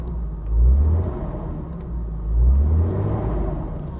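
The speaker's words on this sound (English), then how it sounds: "Let's give it some throttle and see if it goes up." BMW E36 engine on a car undergoing a no-crank, no-start repair, idling with a low rumble and rising twice under throttle into deeper revving swells, close by with no talking.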